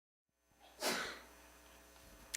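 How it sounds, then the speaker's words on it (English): A single close, sharp sneeze from a person in a quiet room, followed by a brief breath. "when somebody sneezes, UUs will often say, sneeze acknowledged"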